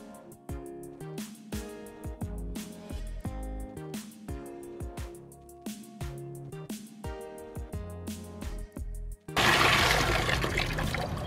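Instrumental music plays first, then water rushes loudly and steadily from a tap into a container being filled to wash raw sheep's wool.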